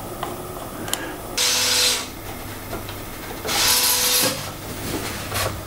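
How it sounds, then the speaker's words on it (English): An Open DTG printer runs a test print on paper, sending its print head across in two loud whirring passes with quieter mechanical clicks and rubbing between them, and no voices. "So I'm just gonna go ahead and print this."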